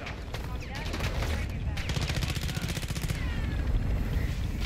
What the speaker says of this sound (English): I got a mortar strike coming in.